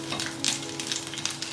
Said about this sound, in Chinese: 加少许油，把洋葱炒香。